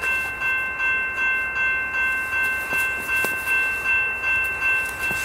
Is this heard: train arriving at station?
yes